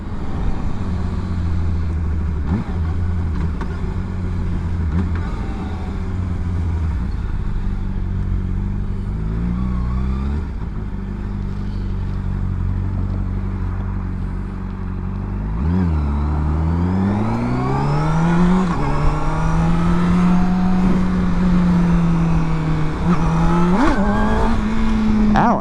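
A Honda CBR600RR sport motorcycle, rebuilt after a wreck, roars loudly on a test ride. Its engine drones steadily, then the pitch climbs and falls through gear changes as the bike accelerates, with wind rushing past.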